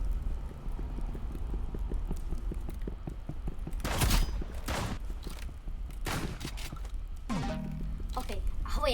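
Shotgun fire in the Rivals video game: several loud, sharp broadband blasts at irregular intervals over busy game ambience and background chatter.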